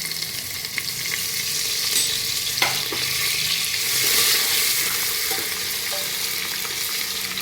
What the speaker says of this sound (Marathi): आता ह्या तेलामध्ये हे लसूण आणि आलं ठेचून घेतलेलं आहे ते टाकायचं